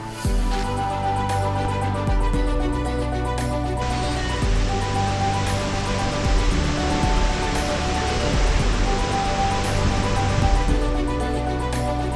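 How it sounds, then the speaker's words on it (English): Heavy water from the Sipiso-piso waterfall crashes down in a dense, steady roar from close by at its foot, with sustained tonal music running underneath throughout. "Here we are, at the foot of the Sepiso waterfall, getting a massive splash."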